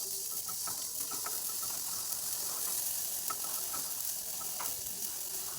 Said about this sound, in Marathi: कॉटनचा कपडा घेऊन असं फिरवत राहायचं. असं सारखं हलवायचं, तेव्हा याच्या लाह्या पडतात.